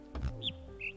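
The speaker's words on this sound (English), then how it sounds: "I heard the bird chirping" Bird chirps in the puzzle video game The Witness, two short high tweets a fraction of a second apart, faint, over a quiet background with a soft low thump near the start.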